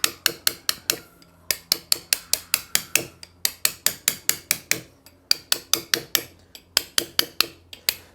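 A hammer strikes a chisel into a marble sculpture in a steady, rapid series of sharp, ringing taps, evenly spaced with a couple of brief pauses, close and clear with no talk.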